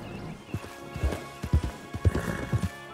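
Horse hooves in the Red Dead video game clop in an uneven walking rhythm, a dozen or so soft thuds spread over a few seconds, close and clear with no voices over them.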